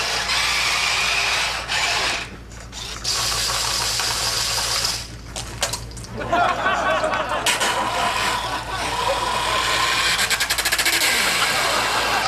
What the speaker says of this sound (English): It's a robot that dispenses ketchup.